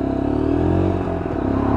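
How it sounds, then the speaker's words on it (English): A new Lexmoto LXR 125cc Euro 5 motorcycle's exhaust hums steadily at low revs, dipping briefly as it shifts up through the gears, loud and close with no talking. "So just pulling through the gears, keeping the revs low as it is a new bike"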